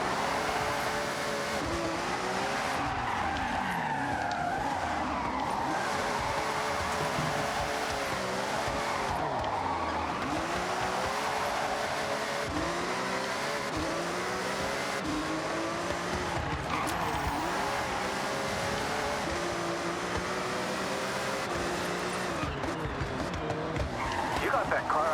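A car drifts in the Forza Horizon 6 racing game, with a roaring engine rising and falling and tires squealing continuously through repeated slides, while a commentator talks over it.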